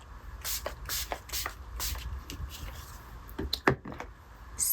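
Several short hissing bursts of coconut-scented JenniferStepps Cosmetics Slay setting spray misted over powdered makeup, fairly close, with soft handling noises in between and no talking.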